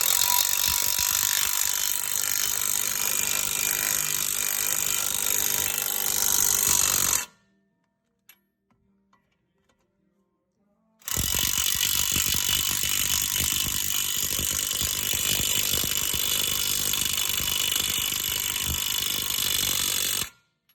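Ratchet tightening bolts on a 2005-2010 Pontiac G6 2.4L axle during CV shaft replacement, a loud continuous rapid clicking that runs for several seconds, stops in a silent gap, then resumes steadily to the end.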